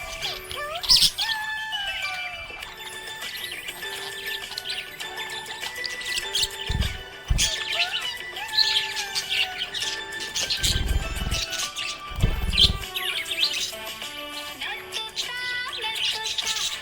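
A happy pet budgie chirps and warbles continuously in bright, rapid twittering phrases, close and fairly loud, with a few low thumps mixed in.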